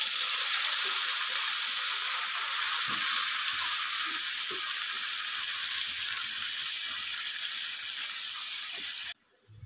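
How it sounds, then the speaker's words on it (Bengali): Banana stem with its released water tipped into a hot wok hisses and sizzles loudly and steadily, a broad frying crackle that holds for most of the clip before cutting off abruptly near the end. "আমি জল শুদ্ধ থোড় কড়াইয়ে দিয়ে দিলাম।"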